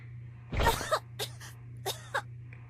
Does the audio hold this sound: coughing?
yes